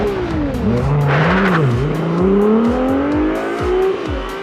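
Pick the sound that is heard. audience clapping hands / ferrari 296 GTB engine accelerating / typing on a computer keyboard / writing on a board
ferrari 296 GTB engine accelerating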